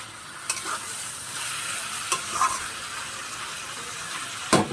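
Flat beans and shrimp stirred in a frying pan so they don't burn: a constant close sizzle under repeated scraping strokes, with a few sharper knocks of the utensil on the pan.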